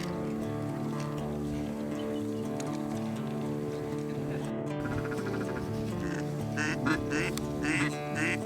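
Ducks quack during an end-of-season duck hunt on Manitoulin Island, a dense, continuous chorus of calls over a steady rumble, with brief sharper bursts near the end.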